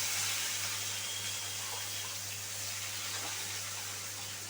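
Finely chopped onion hisses in hot oil in a pan seasoned with whole cumin, a faint, steady sizzle over a low hum throughout.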